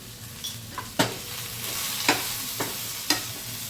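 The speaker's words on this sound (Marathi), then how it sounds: "छान परतून घ्यायचं हे. हा मसाला सगळा वांग्याला लागला गेला पाहिजे" Brinjal pieces sautéed with masala in a pan, a soft continuous sizzle punctuated by several sharp spoon scrapes and knocks at irregular intervals, close up.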